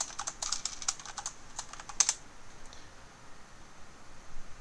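Quick bursts of keystrokes on a computer keyboard, close and fairly quiet, clustered in the first two seconds before fading to faint room hiss.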